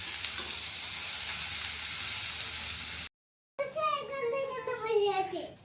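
Vegetables fry in a pan at home with a steady bright sizzle for about three seconds, then a short break before a voice and chatter take over.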